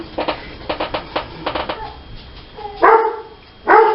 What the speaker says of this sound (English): They always bark at him.